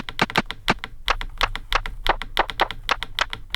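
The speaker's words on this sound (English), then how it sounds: "Sounds like wood or ceramic tapping on a table or something." Rapid, irregular tapping of something like wood or ceramic against a table, crisp close clicks in a busy, uneven rhythm like typing, with no voices.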